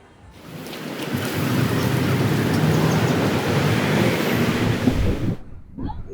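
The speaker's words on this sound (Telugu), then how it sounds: "ఇదేనండి ఫేమస్ మెల్బోర్న్ బీచ్. మెల్బోర్న్లో ఉన్న సెయింట్ కిల్డా." Ocean waves wash in at St Kilda Beach in Melbourne, a loud, continuous roar of surf heavy with wind buffeting the microphone that swells up, holds steady for several seconds and then falls away abruptly.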